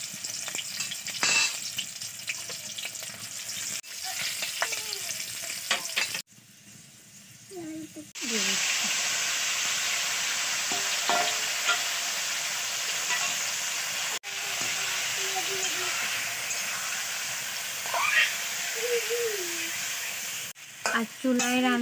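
Bay leaves and onion sizzling in oil on a clay stove, a loud continuous hiss with stirring clinks, interrupted briefly, while a person speaks at points.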